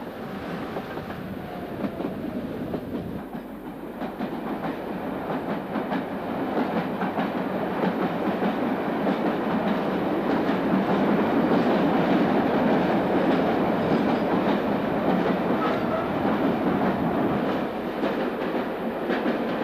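A train runs through the Silvertown covered way in London after leaving Custom House, giving a loud, continuous rumble with rhythmic wheel clatter that swells as it travels through the enclosed section, with no voices.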